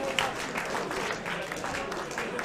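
Live wrestling crowd in Newcastle applauding, steady dense clapping from a large audience throughout, with a commentator's voice faintly underneath.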